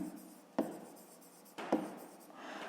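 A pen writes a math solution on paper close by, soft scratchy strokes with two sharper taps, quiet and without talk.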